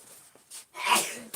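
A single sharp sneeze from a person in a woodworking shop, preceded by a brief intake of breath, close and fairly quiet.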